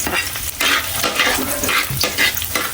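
Sautéing in a pan for ginisang upo, with a spatula stirring through loud, steady oil sizzle and scraping strokes, close and continuous.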